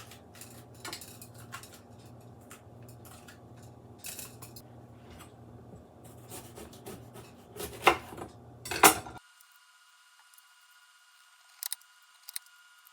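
A knife chopping bell peppers taps and clacks against a cutting board in uneven bursts, louder near the end, then the sound cuts to near silence.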